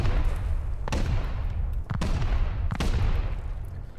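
Explosives going off during a raid in the video game Rust: three heavy blasts at irregular intervals, each a sharp crack followed by a booming rumble, over a constant low background drone.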